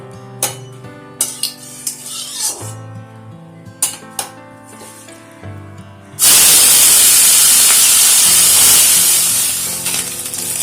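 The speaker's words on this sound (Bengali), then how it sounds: "তেলটাও গরম হয়ে গেছে। এবারে মাছগুলো ভেজে নেব।" Brief clinks of a pan and utensils, then a loud sudden sizzle as small puti fish hit hot oil in a wok, settling into a steady crackling fry.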